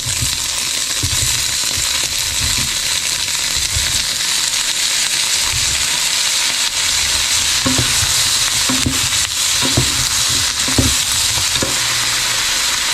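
Vegetables and onion stir-frying in a pan with only a little oil, a steady close sizzle running throughout with scattered scraping clatters of a utensil tossing the food.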